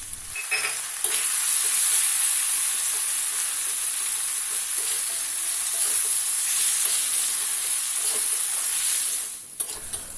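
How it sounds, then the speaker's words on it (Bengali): Steady sizzling of red lentils (masoor dal) frying in a pan, with occasional scraping and stirring sounds, close and continuous for about ten seconds before fading. "মসুরের ডাল হালকা ভাজা হলে"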